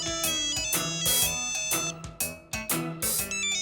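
A mobile phone ringtone for an incoming call plays a bright, looping melodic tune in short repeated bursts, close and fairly loud, with no voices.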